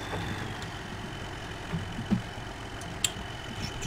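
A tractor engine runs at a steady idle-like drone in the farming game Farming Simulator 15 during a barley harvest, with a few faint clicks and knocks over the continuous low hum and no speech.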